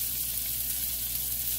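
Burger patties sizzle steadily over medium-high heat in a hot pan, a dense, even frying crackle with no voices.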